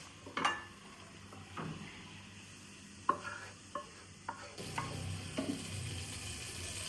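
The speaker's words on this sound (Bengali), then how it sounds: "তেল আর ঘি দিয়ে দিচ্ছি, এখন চালটা ভেজে নেব সুন্দর করে।" Rice frying in oil and ghee crackles faintly in a pan, broken by several sharp clinks and scrapes of a utensil stirring, with no voices.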